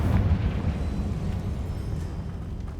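A Confringo fire spell explodes in Hogwarts Legacy, a video game, with one loud, low, rumbling burst that rolls on and fades over a few seconds.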